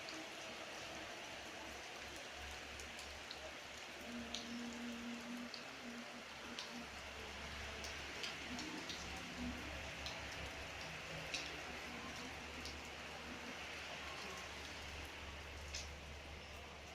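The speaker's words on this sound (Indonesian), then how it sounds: "Hujan." Rain falls steadily at night, a soft continuous hiss with faint scattered drips and ticks, with no talk.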